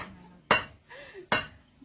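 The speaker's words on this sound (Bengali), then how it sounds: "আমি কিন্তু আলু কাটছি আজকে, আলু দিয়ে রান্না হবে নাকি?" Two firm chopping thuds of potatoes being cut on a boti blade in a rural Sundarban kitchen, evenly spaced and close, with faint light scraping between them.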